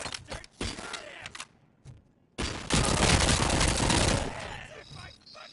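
Bursts of gunfire in the video game RoboCop: Rogue City, a few rapid shots at first, then a long, loud sustained volley, with voices shouting over the fight.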